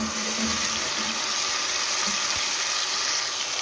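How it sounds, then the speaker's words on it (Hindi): Water goes into a pan of nearly golden frying onions for a cluster bean dish, giving a loud, steady hissing sizzle that runs unbroken and close, with no talking. "थोड़ा सा इसमें पानी डालते हैं"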